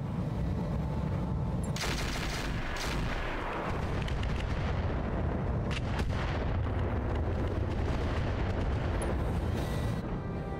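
Mech weapons in the Battletech game fire heavy booming salvos and crackling volleys over a dense, continuous roar of battle. Several louder blasts punch through the steady din.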